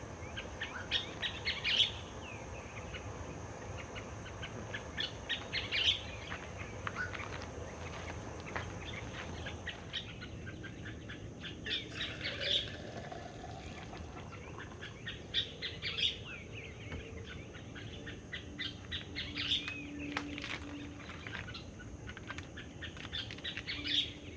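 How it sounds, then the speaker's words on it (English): A single bird calls repeatedly at sunrise beside a mini camper on a hot 100-degree trip, bright chirps recurring every few seconds over a steady low ambient hum, with no talking. "Can't tell if that bird is mad at me"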